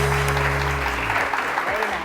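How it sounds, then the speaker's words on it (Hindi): Studio audience applauding a guest on a Pakistani TV morning show, a broad steady patter of clapping mixed with music and a voice speaking over it. "बहुत सारी तालियां रूबी के लिए भी"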